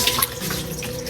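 Hot water pours steadily over leftover undissolved sugar in a sink, a continuous close splashing and trickling with no voices.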